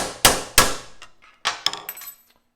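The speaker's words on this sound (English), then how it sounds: "just nail that a couple times with a hammer, and I'll get a nice clean punched hole." Hammer blows on a steel punch, driving a hole through a metal gauge-mounting bracket for a C3 Corvette: two sharp, loud ringing strikes close together, then a quieter cluster of lighter taps and clinks.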